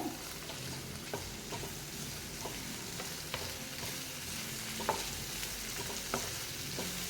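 Coconut chutney is stirred in a hot pan, with a continuous gentle frying sizzle broken by repeated light spatula scrapes and taps against the pan, close and without speech.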